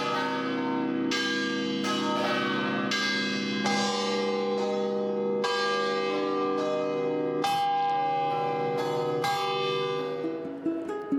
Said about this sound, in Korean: 일곱 개의 종소리가 고막을 마구 자극했지만 색다른 경험이라 시끄러운 종소리도